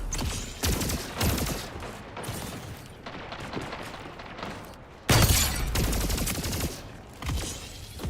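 Gunfire from a Warzone-style battle royale shooter video game, with dense bursts of shots crackling almost continuously and loud, heavier surges near the start and again in the back half, with no talking.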